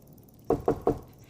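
Three firm, evenly spaced knocks on a door in an animated fantasy series, close and distinct against a quiet background, with no talking.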